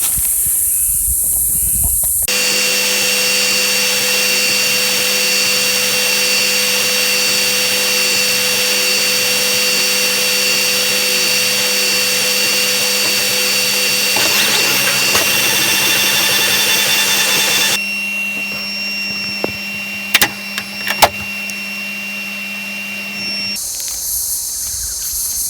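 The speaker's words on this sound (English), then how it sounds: "we've drilled a little hole in the pod here, about 100 mil up" A power drill bores a small hole through a plastic pod for a wicking grow bed, giving a steady, loud whine that runs unbroken for about twenty seconds before cutting off.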